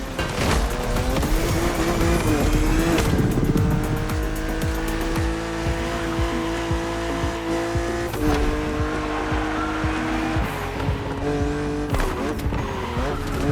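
BMW Z roadster racing in The Crew Motorfest, engine revving loudly and steadily through gear changes, with repeated tire squeals and skids against an aggressive opponent on track.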